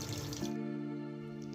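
A tap gushes water over a kilogram of meat being washed and soaked in a kitchen, a steady close splashing stream mixed with a tonal background hum.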